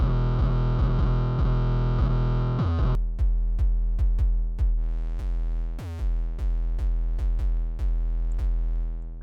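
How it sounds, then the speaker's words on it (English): A sub bass run through the FabFilter Saturn distortion plugin, loud buzzing, harmonically rich tones plucked in a steady repeating rhythm, first a continuous growling line, then short punchy notes that each decay quickly. "So now we can like turn this into like some crazy distorted sub."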